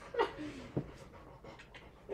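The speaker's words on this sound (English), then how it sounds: "Come here, this is my dog." A dog pants softly in quick, breathy bursts nearby, with a faint whimpering tone mixed in and low room noise around it.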